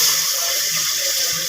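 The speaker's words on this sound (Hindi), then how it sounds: "अब हम डालते हैं पानी।" Water being poured into a cooking pot for aloo tahari, a steady splashing rush of liquid heard close and alone, without talk.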